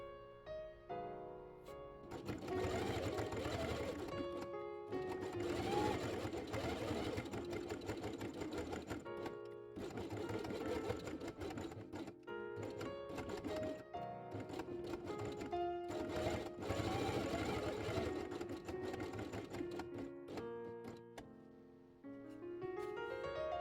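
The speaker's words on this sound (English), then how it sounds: "sew them along the edge with red thread" A sewing machine stitching felt with red thread, a fast continuous mechanical whirr in long runs broken by short pauses, close and steady, with no talking.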